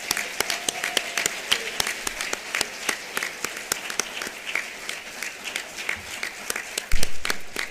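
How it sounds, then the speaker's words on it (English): An awards ceremony audience claps for a community service honoree: sparse, distinct hand claps from a modest crowd, fairly close and irregular, ending with a brief thump near the close. "Let's clap one more time."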